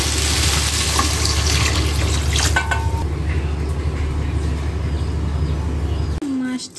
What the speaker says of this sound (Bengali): আমি জল দিয়ে দেবো।